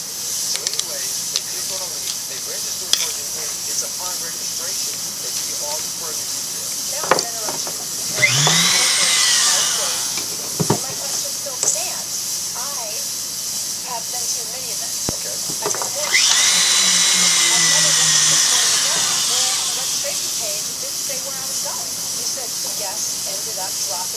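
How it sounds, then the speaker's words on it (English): A polishing machine buffing the inside of gold rings, with two long bursts of high whirring, grinding hiss against a quieter workshop motor hum and scattered clicks, with a voice heard between them. "I'm going to polish the inside of these rings."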